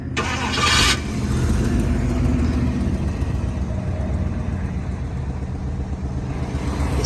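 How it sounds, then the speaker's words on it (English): 1956 Ford Crown Victoria with a fuel-injected 312 V8 cranking briefly and catching, then settling into a steady, close idle rumble. "I'm going to reach in here and start it"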